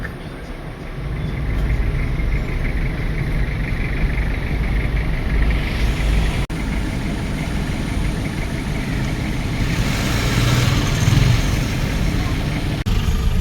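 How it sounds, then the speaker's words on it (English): Bumper-to-bumper road traffic on the Jomvu–Mariakani road in Kenya, with cars and trucks idling in a steady, close engine rumble that fills the whole stretch and never drops away. "The traffic is still bumper to bumper"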